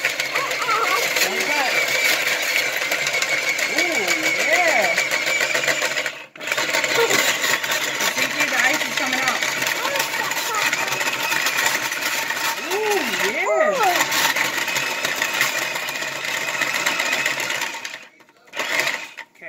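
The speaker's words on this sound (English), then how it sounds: "Shaving the ice." An ice shaving machine whirs and grinds steadily as it shaves ice at home for a Jelly Belly icy, running loud with short pauses while children and adults talk over it.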